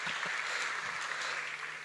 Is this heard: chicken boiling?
no